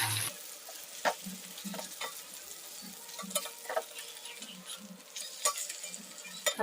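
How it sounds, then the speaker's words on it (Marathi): Fish frying in a pan, Malvani style, while it is turned with a utensil. A faint, steady sizzle sits under intermittent scraping and clinking from stirring, with a few sharper knocks against the pan. "इथे मी मच्छी फ्राय करायला ठेवलेली"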